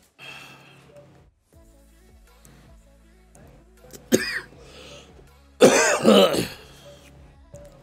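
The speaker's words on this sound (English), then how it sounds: "when the coughing starts, this means that my lungs is in trouble." A person eating instant noodles coughs in two harsh bursts close to the microphone: a short one, then a longer, louder fit a moment later, with no talking.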